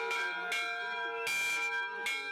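Large trophy bell for a high school football rivalry game against Kirkwood, struck repeatedly in a slow, steady rhythm with about four loud clangs that ring on with sustained overtones, heard alone.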